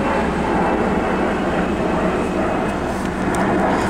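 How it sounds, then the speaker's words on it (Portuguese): An airplane passing near Lisbon airport, a loud, continuous broadband engine roar holding steady throughout with no voices over it. "Estamos perto do aeroporto, ó. O avião passando, ó."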